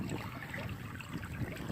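A mountain stream near a village in Chenjiazhuang, Wutai County, Shanxi, gurgles over stones in a steady, dense wash of water, close by and continuous, with no voices.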